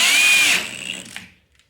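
A drill driver spins a screw as its clutch slips, a high whirring motor tone with a short ratcheting chatter before winding down to silence.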